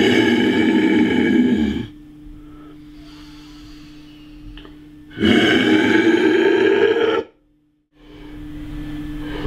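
Two long, loud, raspy tunnel-throat scream exhales by a vocal coach, each lasting about two seconds and separated by quieter breathing and a low steady hum, sounding close and harsh.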